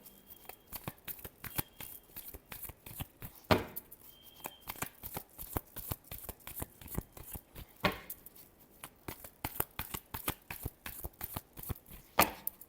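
Tarot cards being shuffled by hand: soft, rapid riffling and slapping bursts repeat throughout, close but quiet, with a few sharper snaps standing out and no voices.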